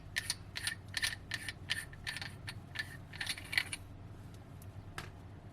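A part of an ECO Darth Maul double-bladed lightsaber hilt being unscrewed, giving a run of quick, bright metallic ticks and clicks in close succession that stop after about four seconds, close and fairly quiet.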